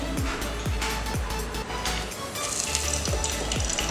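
Tempering spices and two dried red chillies crackle and sizzle steadily in two to three tablespoons of hot oil for sambar, with a few soft stirring knocks against the pan throughout.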